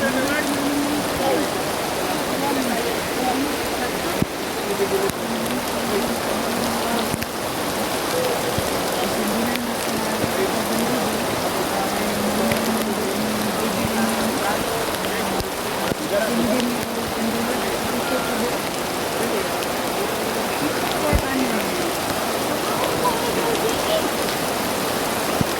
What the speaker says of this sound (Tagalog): Lakas ng ulan mga tol.